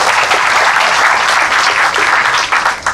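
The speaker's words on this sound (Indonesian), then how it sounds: "Beri tepuk tangan dulu buat kita semua." Loud, full applause fills the room as a gathering audience at a Maiyah session on fasting claps together, a thick unbroken roar of many hands that holds steady before easing slightly at the end.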